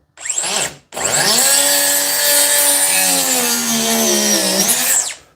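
A Dewalt 20V DCS438 cut-off tool makes its first cut, a loud, close high-pitched whine that spins up in a short burst, drops out briefly, then holds a sustained grinding scream for several seconds before winding down.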